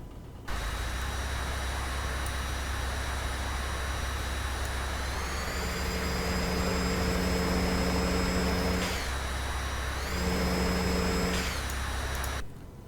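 A powerful twincharged engine, both supercharged and turbocharged, idles with a high, whistling turbine-like whine that rises as it revs, then settles and revs again before cutting off.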